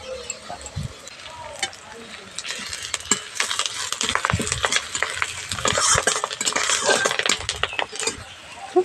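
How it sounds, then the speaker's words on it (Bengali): Sliced onion, green chilli and curry leaves frying in a pan, a soft sizzle broken by repeated spatula scrapes and clinks against the pan, with a voice talking over the cooking. "পেঁয়াজ আর কাঁচা লঙ্কাটা হালকা করে ভেজে নিচ্ছি"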